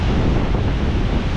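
Stormy winter sea on the Turkish coast, with waves crashing and spray flying, makes a loud, continuous roar mixed with heavy wind buffeting the microphone.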